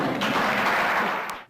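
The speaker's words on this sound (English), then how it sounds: "Now you clap." Sustained applause from a lecture audience at a cardiac surgery oration, dense and steady for over a second before fading out quickly at the end.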